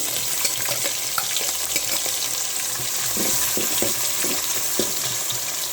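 Chopped onions frying in hot oil with whole cumin, cloves and cardamom, a soft steady sizzle with a few scraping stirs of a spoon in the pan, close by with no talk.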